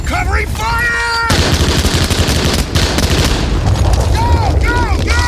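WW2 small arms gunfire from a movie scene: repeated rapid shots and bursts of rifle and machine-gun fire, loud and close, mixed with shouting voices and battlefield noise.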